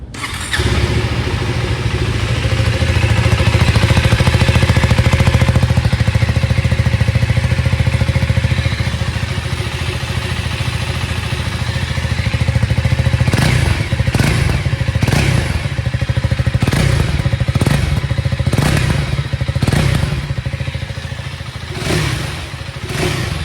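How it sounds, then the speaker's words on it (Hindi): A KTM 390 Adventure motorcycle engine idles with a steady low rumble, then several sharp revs burst out in quick succession, close and loud. "अभी आपको इस बाइक का साउंड आपको सुना देता हूँ"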